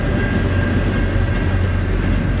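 A Via Rail passenger train passes in evening rush hour in St Henri, Montreal. It makes a loud, steady rumble and rail roar with a faint sustained whine on top, and no voices.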